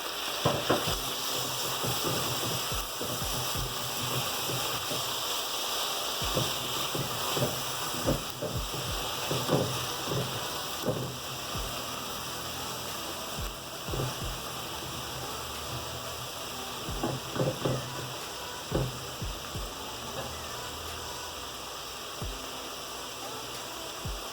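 Tomatoes sizzle and fry steadily in a hot pan while cooking a pak choy dish, a constant crackling hiss with scattered sharper pops and occasional stirring, moderately quiet and without talk.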